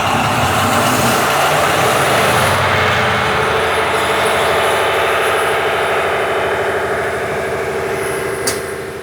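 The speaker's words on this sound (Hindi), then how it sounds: "जैसे ही इंजन स्टार्ट होते हैं, नॉइज इतना होता है कि ईयर प्रोटेक्शन के बिना बात करना इज इम्पॉसिबल।" Big diesel engines used to charge a submarine's batteries run in the cramped machinery compartment, a dense, loud, continuous roar with a steady mechanical hum and a faint high whine above it, with no voices.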